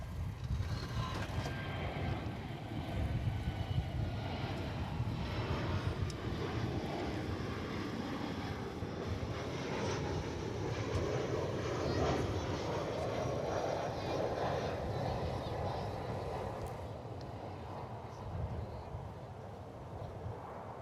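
An airliner landing at Dallas/Fort Worth Airport, a broad steady jet engine roar that holds loud throughout and eases slightly toward the end, with a voice talking over it.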